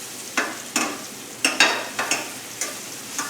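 Onions and mushrooms sautéing in a pan with a soft sizzle, broken by about eight sharp scrapes and clacks of a utensil turning them, close and even with no voices.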